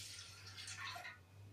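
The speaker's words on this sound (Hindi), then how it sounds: "1/2 ग्लास पानी डालेंगे।" Water being poured into a cooking pot set on a gas stove, about half a glass, a short splashing pour that fades out after about a second.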